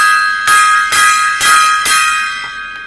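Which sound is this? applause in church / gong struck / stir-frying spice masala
gong struck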